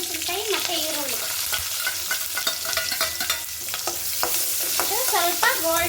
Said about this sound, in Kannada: ಸ್ವಲ್ಪ ಗೋಲ್ಡನ್ ಕಲರ್ ಬಂದು ಫ್ರೈ ಆಗಲಿ.